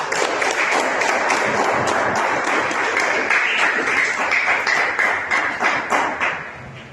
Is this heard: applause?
yes